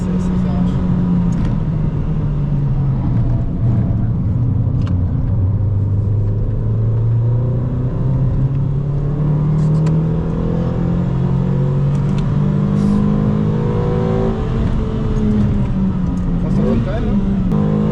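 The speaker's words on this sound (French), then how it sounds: "Il y a un bruit d'admission un peu là, c'est sympa." A sporty hot hatch pulls hard through its gears, with steady intake and engine drone rising in pitch under continuous cabin rumble, heard from inside the car.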